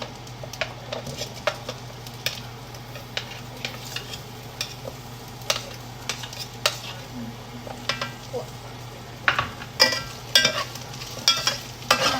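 Carrots added to a pan for homestyle Japanese curry, with a steady soft sizzle of frying under repeated scraping and clinking stirring strokes, close by and growing busier toward the end.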